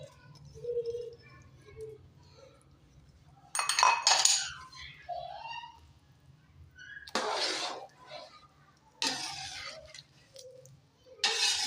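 A spoon scrapes and clinks in a pot of tindian chicken curry as chopped green fenugreek and coriander are stirred in, with a few sharp scraping bursts separated by quiet gaps.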